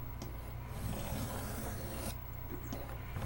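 A Camillus electrician's knife is drawn across a coarse 400-grit diamond stone, giving a continuous close gritty rasp in steady strokes with brief pauses between passes.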